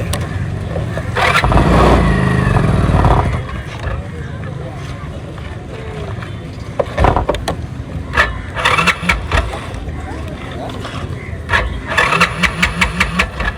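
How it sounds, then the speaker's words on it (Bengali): A car engine cranks and sputters without catching, several bursts of starter grinding spread across the stretch, with louder rough turnover at the start and quieter intermittent clicks and churns later; voices are faint in the background. "আমার গাড়িটা চালু হচ্ছে না"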